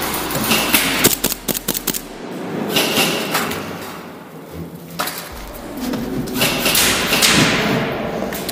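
Airsoft guns fire in an outdoor skirmish, with a quick run of sharp pops early on and scattered thuds and bursts later over a steady outdoor background.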